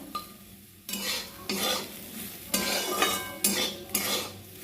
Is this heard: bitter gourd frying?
yes